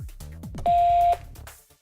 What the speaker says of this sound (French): Le transmetteur émet un bip long.